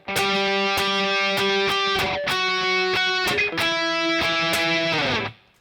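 Distorted electric guitar strums sustained chords in a choppy rhythm, with sharp attacks and brief muted gaps, ending on a fading chord.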